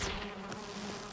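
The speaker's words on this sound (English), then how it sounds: "waiting a moment for the bees to disperse" Bees swarm in the video game Valheim, a soft, continuous droning buzz heard alone and fairly faint, holding steady for about a second.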